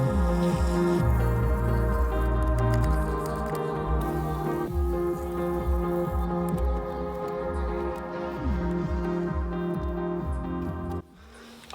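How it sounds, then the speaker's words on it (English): Wheel cleaner drips steadily off a car wheel in a dense patter of small wet drops, soft and close, continuing with little change until it cuts off near the end. "almost all of the products kind of started to drip off the wheel now"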